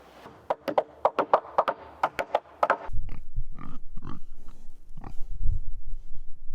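Pigs moving to new pasture on an off-grid farm, a sequence of sharp taps or knocks followed by snuffling grunts and rooting noises close by.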